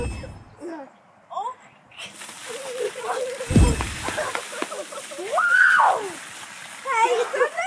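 Water splashes loudly onto a person during an ice water bucket challenge: one brief splash bursts out mid-clip, with voices talking and reacting around it, including a high yelp.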